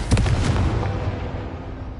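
A Confringo fire curse bursts in Hogwarts Legacy, a single loud, close boom with a crackling rumble that decays over about two seconds.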